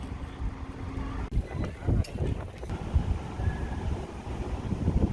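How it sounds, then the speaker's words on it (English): Strong gusty wind buffets the microphone outdoors in St. Augustine, Florida, a steady low rumble with louder surges throughout and faint voices in the background. "Oh, it's one of the windiest days ever."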